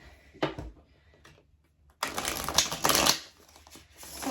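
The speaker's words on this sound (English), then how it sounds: "let's shuffle a little bit more" Tarot cards being shuffled by hand, a brief riffle followed after a pause by a longer, dense burst of rapid papery flicking close to the microphone.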